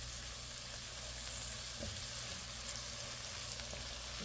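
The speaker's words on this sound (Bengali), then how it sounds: "একটু কষিয়ে নেব যেন কাঁচা গন্ধটা চলে যায়।" Spices and salt sauté in a pan for a pomfret fish curry with potato and eggplant, giving a faint, even sizzle that hisses steadily throughout without pause.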